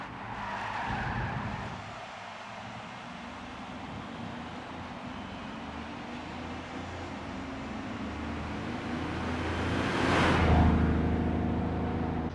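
Chevrolet Camaro Z28 lapping Laguna Seca Raceway in Gran Turismo 5: a sustained engine drone with tires squealing and skidding through corners, swelling into a louder screech near the end.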